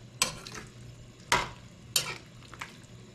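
Squash stirred into masala, curry powder and jeera in a hot pan, producing three or four sharp sizzling bursts with each stir, close and fairly loud, with no voices.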